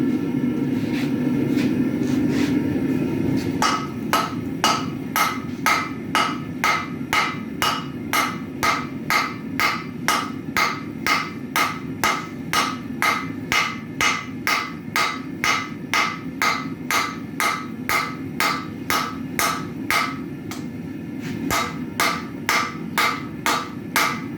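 Hot steel being forged with a hammer to thin the tine of a striker, a long run of loud, evenly spaced ringing blows close by after a brief rumble of furnace noise, with no talk.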